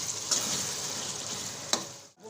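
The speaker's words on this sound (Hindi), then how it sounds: "कीमा इसके साथ ही भुनेगा।" Minced meat fries in a pan as filling for stuffed bitter gourd, producing a short, continuous, moderately quiet sizzle with a couple of brief clinks of stirring.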